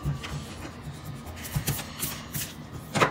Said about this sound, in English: Oh, you got something to erase? Okay, let's wait for you to erase.